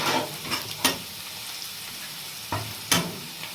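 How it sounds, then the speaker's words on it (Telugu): Chopped onions and green chillies fry in a pan, giving a steady soft sizzle broken by a few sharp scraping strokes of a spoon as they are stirred, fairly close with no talking. "మనం ముందే కట్ చేసుకున్న ఉల్లిగడ్డలు పచ్చిమిర్చి ఉల్లిగడ్డలు గోల్డెన్ బ్రౌన్ వచ్చేదాకా కలుపుకోవాలి"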